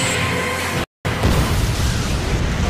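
Loud cartoon explosions from a Naruto anime fight roar in dense succession, broken by a brief moment of silence before the booming resumes.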